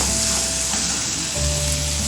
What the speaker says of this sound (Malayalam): ഇത് നന്നായിട്ട് ഇവിടെ കിടന്ന് തിളക്കട്ടെ കേട്ടോ